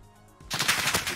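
An RPK machine gun firing in the video game Modern Warfare: after a quiet moment, a loud continuous automatic burst of rapid shots.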